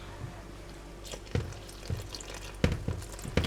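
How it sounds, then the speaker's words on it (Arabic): Water poured by hand into dough during kneading for Egyptian feteer, coming as soft intermittent splashes and drips that rise and fade in short bursts, close by and fairly quiet. "ممكن اساعدك اصب لك انا ميه؟"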